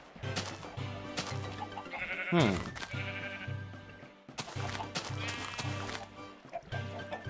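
Sheep bleating in the video game Minecraft, several short repeated bleats close by over background game music, with a brief murmur from a voice.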